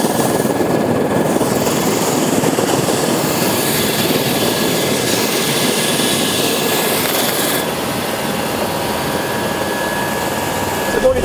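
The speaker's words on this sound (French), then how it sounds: "Objectif pour Julien, monter le patient le plus vite possible dans l'hélicoptère" An Air-Glaciers rescue helicopter turns with a steady, loud whooshing roar and a high turbine whine, continuous and close, with a faint voice underneath.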